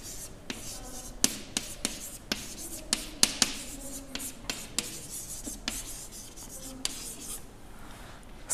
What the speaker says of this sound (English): So I will write the title